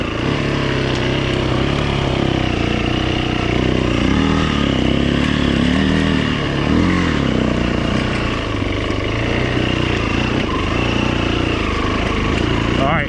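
A 2008 Yamaha WR450F dirt bike engine revs hard and steadily while the rear wheel spins climbing a hill, loud and close throughout, with slight rises and dips in pitch.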